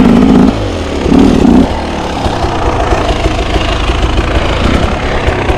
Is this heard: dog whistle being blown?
no